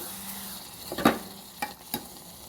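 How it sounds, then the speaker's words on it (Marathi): A coconut chutney mixture with a little sugar and salt is stirred and sautéed in a pan, giving a few short scraping clatters of the spoon over a low sizzle. No one speaks. "थोडंसं मीठ आणि ते हलवून परतून घ्यावे"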